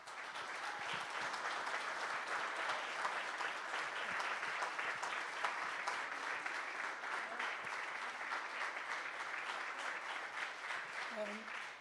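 Sustained applause at a town council meeting honoring a winter track and field team, a steady roomful of clapping lasting many seconds, moderately distant, with a brief voice or cheer near the end.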